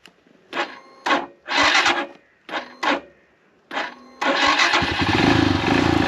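Himalayan 462 big-bore motorcycle being cranked in several short bursts that fail to catch, then the engine fires and runs steadily, loud and close, with no talk over it.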